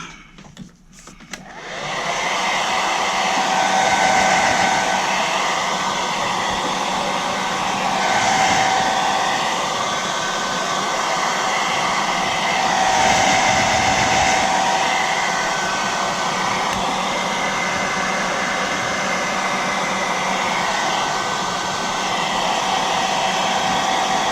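A hair dryer drying oxide ink starts with a click and then whirs steadily at high speed, a loud, continuous airy hum with no talking.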